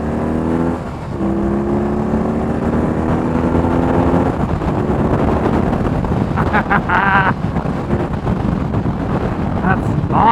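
A BMW R18 motorcycle's big boxer engine runs loud and close while riding, rising in steady revving harmonics before settling into a rough, vibrating drone under wind buffeting, with a voice speaking briefly.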